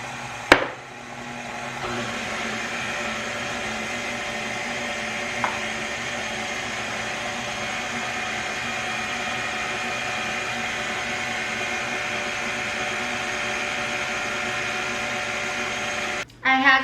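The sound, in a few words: electric mixer mixing cream, lemon zest and vanilla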